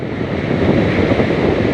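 Sea waves surge and crash in a steady, loud wash while strong wind buffets the microphone, heard out at sea from a small fishing boat during heavy rain, with no voices.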